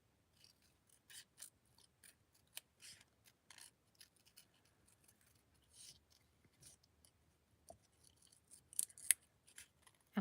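Scissors snip around a paper butterfly cutout in short, irregular bursts of small clicks and cuts, close and quiet against near silence.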